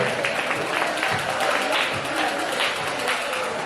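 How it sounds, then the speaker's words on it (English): A women's audience applauding, with sustained clapping throughout. "Ladies, give me a round of applause"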